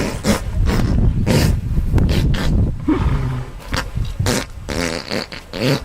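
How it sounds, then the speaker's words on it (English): Loud, sputtering bursts of a horse passing gas, a series of wet, blaring blasts with brief gaps, close and with no talking. "We had the audio once of a horse passing gas"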